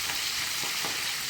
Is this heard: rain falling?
no